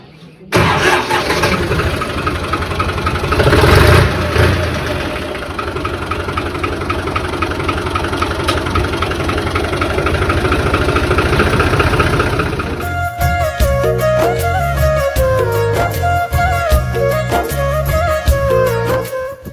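A tractor engine starts and settles into a loud, steady idle with dense mechanical chatter. Partway through, the sound shifts to a more tonal, rhythmic texture.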